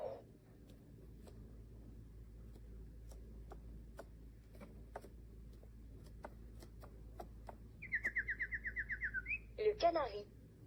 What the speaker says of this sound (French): Le canari.